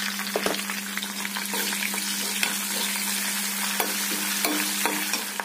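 A tempering with turmeric fries in a pan for beans fry, giving a loud, continuous crackling sizzle up close, with occasional sharp pops and stirring scrapes throughout.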